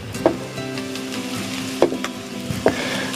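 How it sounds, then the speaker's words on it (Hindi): Onions frying in oil in a pan, sizzling steadily and close, with a few sharp utensil clinks as they are stirred, for a potato and capsicum curry. "प्याज को हम लाइट ब्राउन करेंगे"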